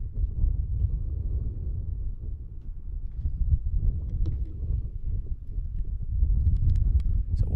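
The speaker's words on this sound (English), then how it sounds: "it's a bit windy" Steady low wind buffeting a microphone at an outdoor baseball game, a continuous rumbling roar throughout with no voices.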